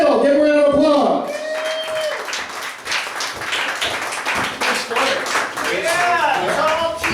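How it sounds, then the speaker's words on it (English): Applause and scattered whoops from an audience at a live comedy-style event, greeting a performer called up to the stage. A voice talks loudly over the start and again near the end. "Give him a round of applause."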